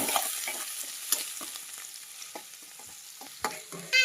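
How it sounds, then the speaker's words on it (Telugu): Onions and green chillies fry in a pan at close range, a steady sizzle punctuated by scraping stirs and a few sharp clinks of the spatula against the metal, with no voices over it. "అలానే పచ్చిమిర్చి కూడా వేసేద్దామండి. బాగా ఫ్రై చేసేసుకుందాం."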